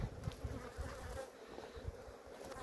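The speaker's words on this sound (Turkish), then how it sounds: "arılar hırçınlaştı" Honey bees agitated during a honey harvest make a dense, steady buzzing drone that fills the air up close, with no talk over it.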